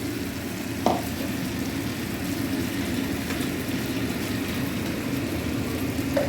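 Green chili paste frying in a pan gives a steady, even sizzle throughout, with a couple of faint scraping stir sounds; no voices.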